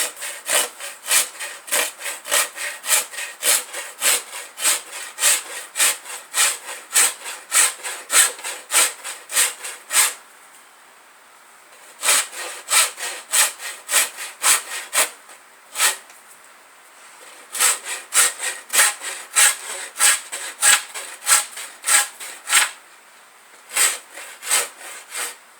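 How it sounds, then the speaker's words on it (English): Farrier's rasp worked over vine maple and yew bow wood, giving steady rhythmic strokes in close, loud bursts with two brief pauses between runs. "Using a farrier's rasp, a fine rasp, and a smaller rounded rasp."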